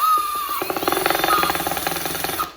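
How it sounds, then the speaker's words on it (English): A power drill drives a dowel on an IKEA nightstand, a short whine that kicks into a rapid, buzzing chatter for about two seconds, close and loud, then stops. "So I'm gonna take the dowel, put it in the little hole, drill."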